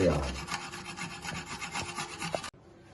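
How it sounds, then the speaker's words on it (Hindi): Onion and garlic scrape across a grater in brisk, rhythmic rasps that are close and steady, then cut off sharply near the end. "प्याज और लहसुन जी कद्दूकस हो गया"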